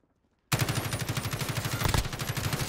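Rapid automatic gunfire from a gun in Call of Duty Modern Warfare, a Kilo 141 rifle, bursting in loud and close after a half second of silence and hammering on in a steady rattling stream of shots.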